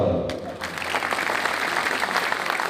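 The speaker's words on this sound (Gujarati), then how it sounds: "તાળીથી વધાવો." A crowd at a live stage event in Leicester bursts into applause after a brief opening sound, the clapping rising quickly and holding as a dense, even wash.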